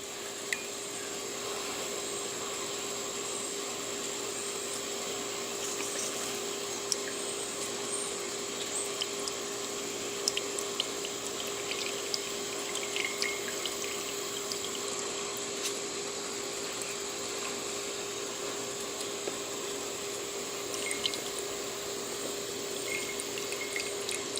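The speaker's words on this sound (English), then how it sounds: "I'm going to drain to where that oil comes down here, but I want to get the water off first." Water drains through a turned knob valve from an essential oil distiller, a steady continuous trickling hiss that stays even and moderately quiet throughout, with a faint tonal hum and occasional small clicks.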